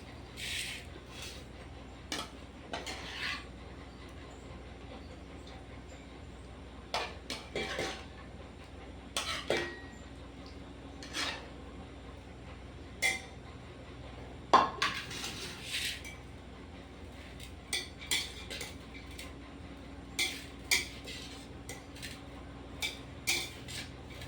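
Lemon rice mixed in a pan, heard as a faint background hum with scattered quiet clinks and scrapes of a spoon against metal at irregular intervals, with no voices.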